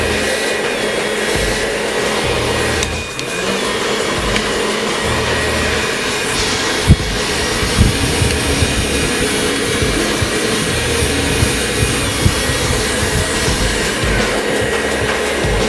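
A hair dryer blows steadily while styling a men's modern pompadour, its broadband whoosh continuous and close throughout, with occasional brief handling bumps and no talk.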